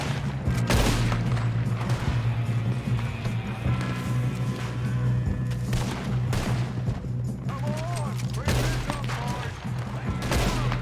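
Gunfire rattles through a Red Dead Redemption 2 shootout, with dense overlapping shots and volleys over a steady low rumble of a moving train, loud and continuous, while a brief voice talks in the background.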